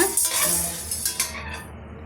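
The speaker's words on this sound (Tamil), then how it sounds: "சேர்த்துட்டு ஒரு கோல்டன் கலர் வர வரைக்கும் நம்ம வறுத்து விட்டுக்கலாங்க" Urad dal roasting in a pan for a Tamil moringa leaf powder, with a few clinks and scrapes of a ladle against the pan over soft sizzling, close and moderately loud, no talk.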